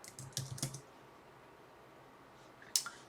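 Computer keyboard typing, a few short quiet bursts of key clicks near the start and one more near the end, separated by near silence.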